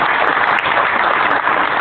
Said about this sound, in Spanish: Un fuerte aplauso para Luis Guevara